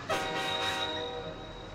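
A train pulls into a suburban station with a faint, steady horn-like tone over a low rumble of rail cars, quiet and distant, no talk.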